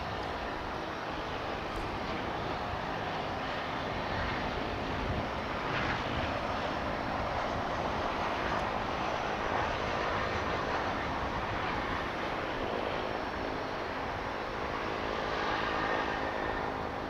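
An incoming airliner at Dallas/Fort Worth Airport, a broad continuous engine roar that holds steady at moderate loudness for the whole stretch, with no voices.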